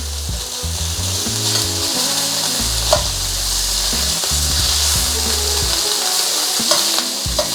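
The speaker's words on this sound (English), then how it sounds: "now we can start to just sear the other side" Beef sears in a very hot wok with a steady loud sizzle and hiss, broken by a few scraping stirs and clacks, close and without talk.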